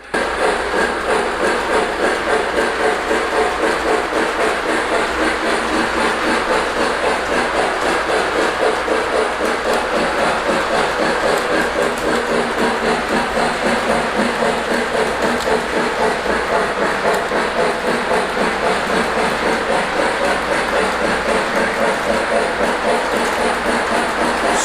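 A LionChief Plus Hudson model locomotive runs across crossover switches on a layout, giving off a continuous loud whir with rapid, steady clickety-clack from the wheels and track joints throughout.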